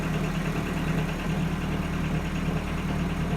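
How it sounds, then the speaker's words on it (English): A car engine idles steadily close by, a continuous low rumble with a faint, regular knocking pulse running through it. "And there's a knock in the engine."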